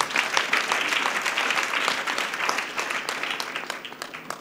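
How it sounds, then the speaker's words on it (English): A church congregation applauds loudly and steadily, a dense wash of many hands clapping together throughout. "Let's clap for Jesus Christ"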